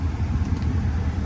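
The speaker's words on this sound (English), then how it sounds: "this is a drive video, POV, of a 2005 Chevrolet SSR" Steady low engine and road rumble from inside a 2005 Chevrolet SSR with about 9,000 miles, cruising in Florida with the air conditioning running, continuous and even with no voices.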